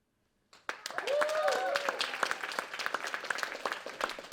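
Audience applause for students at a screening: steady clapping from a crowd, starting abruptly and continuing dense and close, with a brief voice heard early on.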